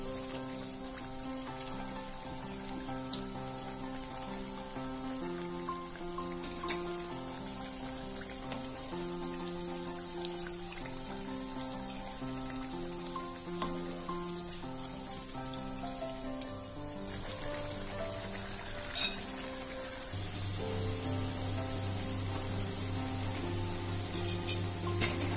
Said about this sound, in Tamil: நிறம் மாறக்கூடாது, லைட்டா தான் ஃப்ரை பண்ணணும்.